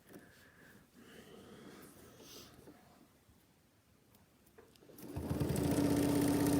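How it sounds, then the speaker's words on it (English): A sewing machine runs a decorative stitch on fabric, starting up loud and fast near the end after a quieter stretch of handling, then whirring steadily at high speed. "I was doing a decorative stitch. I can't sew that fast."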